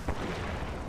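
A single sniper rifle shot in the video game Destiny booms near the start, a brief heavy thump followed by a fading rumble.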